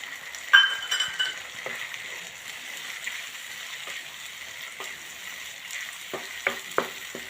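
About two spoons of water go into a sizzling masala for a gravy-style cluster bean (guar) curry tempered in mustard oil with garlic and ajwain; a brief sharp splash-hiss rises early, then steady frying hiss with faint soft clinks continues alone.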